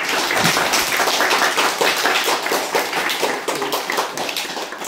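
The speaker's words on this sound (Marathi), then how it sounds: "पुन्हा एकदा मुलांनी टाळ्या वाजवून स्वागत करायचं आहे" Schoolchildren clapping together to welcome the Mauli Foundation at a school in Vikramgarh taluka, a dense, steady burst of applause that is close and loud, lasting throughout.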